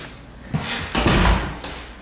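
An interior house door leading to the basement is handled up close, with a thud, then a louder swinging and closing knock with a low boom, followed by a softer latch click.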